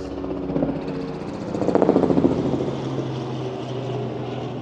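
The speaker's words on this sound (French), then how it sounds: "Oh, l'hélicoptère!" A helicopter drones steadily overhead at La Roque-Gageac, a village in Périgord, France, its rotor chop swelling briefly louder in the middle before settling back to a constant hum.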